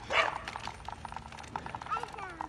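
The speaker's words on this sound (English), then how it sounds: "yeah, there's a dog." A dog barks somewhere nearby: a couple of sharp yips stand out against background noise while a person talks over them.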